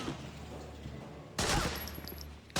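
Gunfire in Medal of Honor: Frontline on PS2, a sudden loud burst of shots partway through after a quieter low rumble, with a faint muffled voice beneath.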